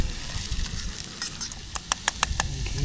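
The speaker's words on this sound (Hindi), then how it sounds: "घी में जो तड़का लगता है ना," Steady sizzling of spices and garlic tempering in hot ghee, with sharp crackles and pops growing more frequent toward the end.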